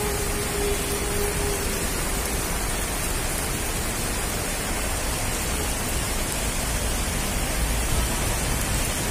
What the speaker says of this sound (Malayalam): ഇപ്പോൾ അത് രണ്ടും ഒന്നായിക്കൊണ്ടാണ് ഇവിടെ വെള്ളം ഒഴുകിക്കൊണ്ടിരിക്കുന്നത്